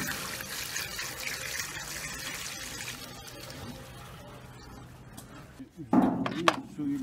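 Water is poured into a fertilizer mix for olive trees, making a steady rushing splash that fades, then a louder close gush near the end.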